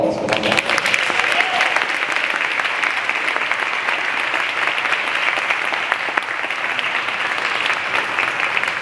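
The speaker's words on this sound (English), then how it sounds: "one final round of applause." An end-of-year honor roll school assembly audience gives loud, sustained applause as award winners come forward. Many hands clap steadily for nearly nine seconds, with a few voices mixed in underneath.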